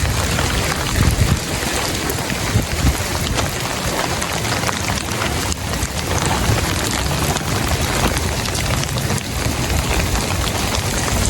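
Heavy rain pours onto a flooding street during a thunderstorm, a loud, dense, unbroken hiss of drops hitting the pavement that lasts throughout with no voices.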